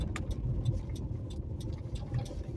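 A car on the road makes a steady, close engine and road drone that holds level for a couple of seconds, with no voices over it.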